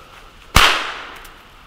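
A single sharp bang from a New Year's Eve firecracker goes off, close and loud, its crackling hiss trailing away over about a second.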